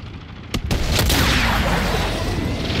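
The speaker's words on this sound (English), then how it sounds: "Sniper rifle." Sniper rifle fire in the video game Call of Duty Black Ops Cold War, a couple of sharp cracks followed by a loud, sustained rumbling wash of battle noise.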